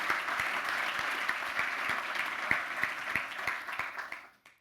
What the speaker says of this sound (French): Je crois qu'on peut applaudir Aude et toute l'équipe